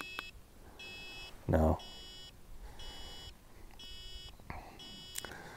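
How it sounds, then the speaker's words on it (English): A PowerEgg X drone controller beeps in short high bursts about once a second, repeating steadily at moderate level, with one brief spoken word and a thump partway through. "And I don't think we can turn off this beeping."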